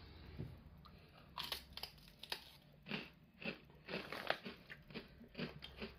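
Close, crisp crunching and chewing of thin pizza-flavoured Polish bread crisps, a series of sharp bites and brittle cracks repeating irregularly over about six seconds, with no talk.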